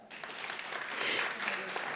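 Applause from a crowd, a steady wash of clapping that swells slightly and continues throughout, with a voice faintly under it.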